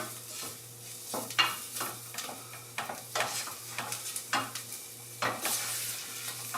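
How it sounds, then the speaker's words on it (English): Flour roux cooking in fat for tomato soup, a soft sizzle broken by repeated spoon stirs and scrapes against the pot in an uneven rhythm, close and fairly quiet, with no talking. "we want that fat to be able to cook that flour out a little bit and absorb it"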